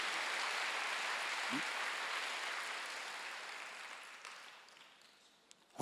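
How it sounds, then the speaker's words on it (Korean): A church congregation at a Wednesday worship service applauds in a soft, even wash of distant clapping that gradually fades away. "박수로 돌리시기 바랍니다"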